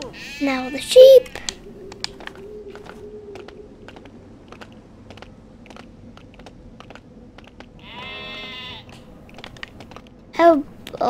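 Sheep bleat in the LEGO Worlds video game: a short bleat near the start, a longer wavering one later and a brief final call. Faint, regular clicking of keys ticks along underneath.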